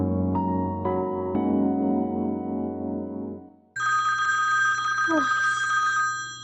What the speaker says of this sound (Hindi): फोन बज रहा है, मामू की कॉल है दुबई से।